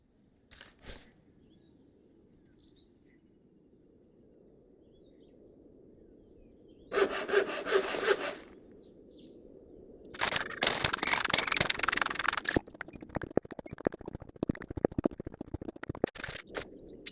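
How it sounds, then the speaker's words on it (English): Digging into a mountainside in Minecraft to carve out a base, with a short block-breaking burst midway followed by a longer run of rapid, crunchy mining hits close up. "I'm going to dig into the mountain for my base."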